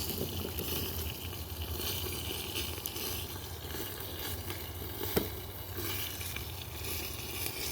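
Pork cooks over a backyard campfire with a soft, steady sizzle and faint crackle, a continuous low hiss heard up close with one sharp pop partway through and no talking.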